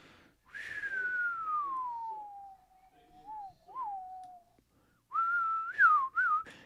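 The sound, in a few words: person whistling a Western-style tune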